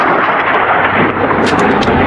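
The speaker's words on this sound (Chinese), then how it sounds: "UHY 也在向城镇内发射火箭弹。" Rockets fired by a UH-1Y helicopter exploding in a town during a US Marine Corps urban combat exercise, a dense, rumbling roar of distant blasts with no clear individual impacts.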